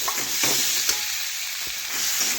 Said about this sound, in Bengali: আমি এখানে টমেটো কুচি দিচ্ছি